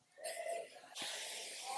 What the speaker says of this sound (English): I'm going to spray it so then the bumps stay at the top, but it stays smooth throughout the rest of the ponytail